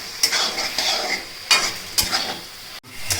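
A mushroom biryani mixture is stirred in a pot, with several distinct scraping strokes over a soft background sizzle and a sharp clink near the end.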